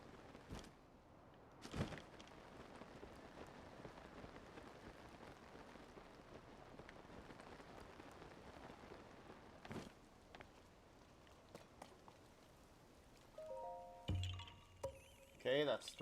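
Steady rainfall patters in the video game Zelda: Tears of the Kingdom, a constant soft hiss of drops with a few brief louder game sounds and a burst of activity near the end.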